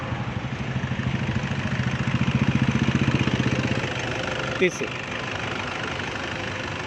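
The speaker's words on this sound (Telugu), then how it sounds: "మనకి ఇంజన్ నాయిస్ కొంచెం రఫ్గా ఉంది, ఇప్పుడు కొంత స్మూత్ అయింది" A Toyota Innova engine idles after carbon cleaning, a steady mid-pitched hum that sounds fairly smooth and swells briefly in the middle, with a person speaking over it and a short knock near the end.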